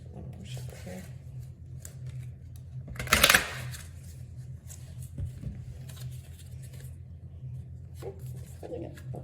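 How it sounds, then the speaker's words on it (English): Oracle cards shuffled in a single brief riffle burst, a quick crisp flutter standing out over a low steady hum, with faint handling rustles around it. "Let's do one more shuffle here."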